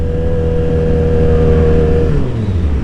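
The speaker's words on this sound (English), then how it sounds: "Sure is one stupid car." A car revs and accelerates nearby, a loud sustained engine roar with a steady pitch that drops and slides lower about two seconds in as it pulls away.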